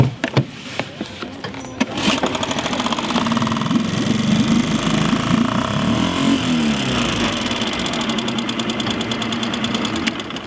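Outboard boat motor at a marsh landing in Pas-de-Calais, France, pulled into life after a few short pulls, then running steadily with a rough, knocking putter for the rest.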